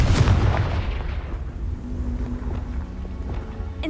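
A Confringo spell blast in Hogwarts Legacy lands with a loud, booming burst, then fades into a rumbling, crackling tail with a faint tonal hum, heard alone without any voices.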